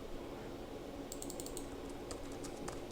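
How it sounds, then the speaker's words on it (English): Quick bursts of light clicking keystrokes on a computer keyboard, faint over a steady background hiss, in two short runs of typing. "Let me type it in for you again."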